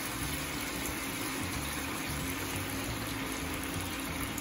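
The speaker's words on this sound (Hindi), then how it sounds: "हम 1/2 कप के करीब डालेंगे ऑयल" Oil poured into a mutton handi, a steady continuous liquid pour with a gushing wash that holds evenly throughout, close and fairly loud.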